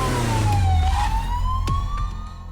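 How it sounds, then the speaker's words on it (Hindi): An ambulance siren wails close by, its rising and falling tone sweeping steadily over a low road rumble, loud throughout. "देखो, एम्बुलेंस आई है।"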